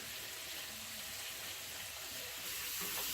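Onions hiss in a frying pan, a steady broad sizzle throughout at moderate level with faint occasional clinks, no talking.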